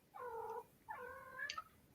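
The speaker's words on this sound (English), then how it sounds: "I hear a kitty cat" Two drawn-out cat meows from cats running around a house, the second rising higher, fairly close and clear over a quiet background.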